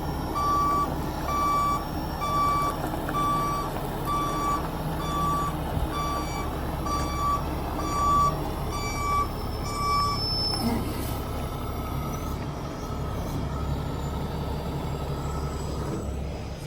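Reversing beeps from a mobile crane truck repeat at a steady, even pulse for about ten seconds over a constant low engine rumble, then stop while the engine keeps running.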